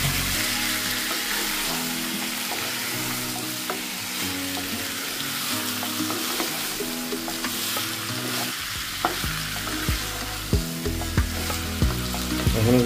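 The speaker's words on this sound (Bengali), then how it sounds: "এবার এটা আমাকে ভালো করে নাড়িয়ে নিতে হবে, ভালো করে মিশিয়ে নেব।" Potatoes frying in turmeric-tinted oil are stirred steadily for a Bengali chicken curry, murgir laal jhol: a continuous close sizzle with scraping strokes, sharper clatters toward the end, and no talking.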